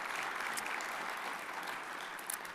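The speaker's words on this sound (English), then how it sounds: "Let's give it up a round of applause for them" Audience applause fills an alumni awards celebration, with dense, steady clapping from a large crowd that holds at an even loudness throughout.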